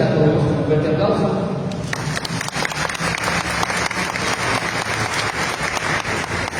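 A speaker's voice trails off before a large audience breaks into strong applause welcoming a guest at a talk, many hands clapping in a steady, sustained burst that continues to the end.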